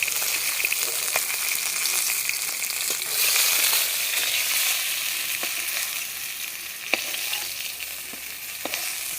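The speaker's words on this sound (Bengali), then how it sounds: "আগাটা হয়ে গেছে আমি তুলে নিচ্ছি সব মাছ ভেজে নিচ্ছি" Fish frying in oil gives a loud, steady sizzle close by, with occasional sharp pops and spatters throughout.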